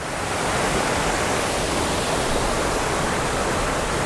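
A small rainforest waterfall rushes steadily from just below a rock, a dense, unbroken wash of falling water that stays loud and even throughout.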